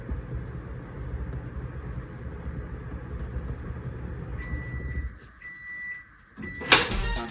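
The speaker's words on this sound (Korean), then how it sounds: "전자레인지에 먼저 2분간 돌려줍니다" A microwave oven heats a steamed egg mixture in a bowl with its lid resting loosely on top, giving a steady low hum for about five seconds, then a few electronic beeps and a sharp clatter as the door opens.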